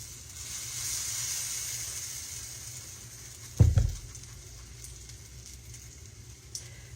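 Self-rising flour hoe cake batter in a skillet gives a soft, steady hiss, interrupted midway by a sharp thump of handling close by, then a quieter sizzle with a light tap near the end.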